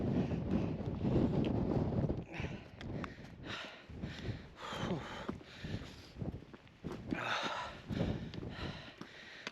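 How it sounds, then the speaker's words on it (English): Strong gusts of wind blowing up a mountainside buffet the microphone with heavy, uneven rumbling and roaring bursts, loud and close, with no talk in between. "I think the wind's just coming up the side of the mountain,"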